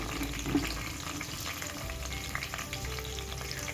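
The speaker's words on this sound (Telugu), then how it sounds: "అలాగే కట్ చేసి పెట్టుకున్న పచ్చిమిర్చి ముక్కలు కూడా ఫ్రై చేసుకోవాలి." Cumin seeds and chopped green chillies frying in hot oil, a continuous close sizzle with light stirring throughout and no voices.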